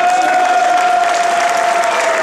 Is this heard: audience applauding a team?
yes